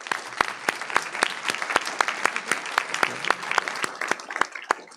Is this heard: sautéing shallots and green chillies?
no